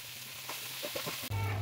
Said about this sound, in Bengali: শুটকিটা ভেজে নিতে হবে, এইটাও বেশি কালো করা যাবে না